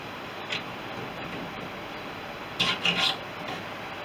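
Brad drill bit turned by hand against a wooden tailplane of a Fisher Youngster V aircraft, a faint steady rasping scrape with a brief louder cluster of gritty rubs near the end.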